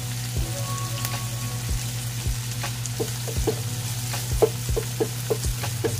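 Onion and garlic sautéing in a hot pan for a pork and vegetable dish, a steady close sizzle broken by regular scraping stirs, with no talking.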